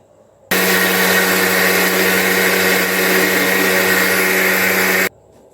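A mixer jar grinds garlic chutney with dried red chillies and salt, a loud, steady electric whirr running unbroken for about four and a half seconds before cutting off abruptly.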